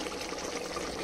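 Water pours steadily into a cooking pot during a goat head curry, a continuous close, even splashing stream with no pauses or talk over it.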